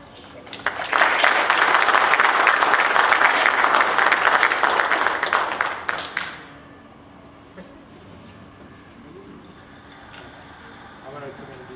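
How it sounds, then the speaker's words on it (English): Meeting audience at a town meeting bursts into loud, sustained applause lasting several seconds, then it cuts off abruptly to quiet room noise with faint murmuring. "they all deserve a big round of applause"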